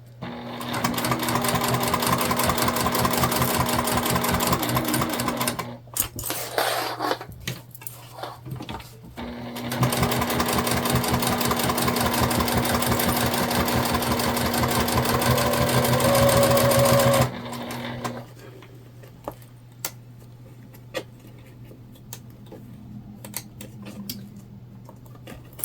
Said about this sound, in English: we're sewing together the lining and the exterior here